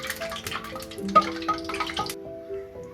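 Water sizzling and popping in hot frying oil as it burns off before chivda is fried, a steady close crackle with scattered drips and pops, with a faint kitchen hum underneath.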